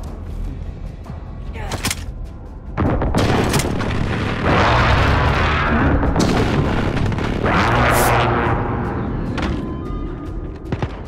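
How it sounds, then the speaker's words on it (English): Precision airstrike explosions rock a Call of Duty: Modern Warfare match, heavy booms rolling one after another with dense rumbling bursts over about ten seconds, loud and close, with faint game voice chatter beneath. "Enemy precision airstrike, take cover!"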